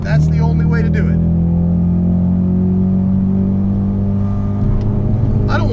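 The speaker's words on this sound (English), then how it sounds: "you had to clutch kick it in second" A car accelerates hard after a clutch kick in second gear, the engine note climbing in a loud, sustained pull, with a driver speaking briefly over it at the start and end.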